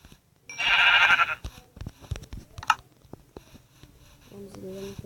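A Minecraft sheep gives a loud, wavering bleat near the start, followed by soft tapping and game noises. Someone speaks nearby.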